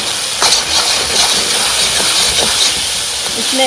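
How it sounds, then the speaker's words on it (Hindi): Green onions are stir-fried on a high flame, a loud, dense, hissing sizzle held steady and close with faint clinks of the utensil underneath. "इसको आपने स्टर फ्राई करना है for 2 minutes on high flame."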